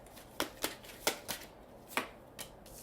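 Tarot cards being shuffled by hand, a quick run of about seven crisp riffling bursts, close and fairly quiet with no talk.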